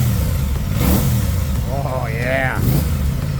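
An Aprilia RS 660 twin-cylinder sport motorcycle revs nearby over a steady engine rumble, with a rising, wavering tone swelling and then falling away while someone speaks briefly over it.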